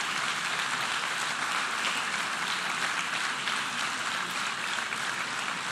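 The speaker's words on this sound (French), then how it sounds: "tu vois les applaudissements de tous les pays du Sud" Dense applause fills a large assembly hall during a speech at the United Nations, a continuous roar of many hands clapping at even loudness throughout, with no voices standing out.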